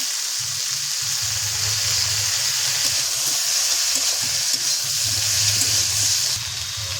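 Crab sizzles and spits steadily in a hot pan before spices go in, a continuous close frying hiss with a low hum underneath.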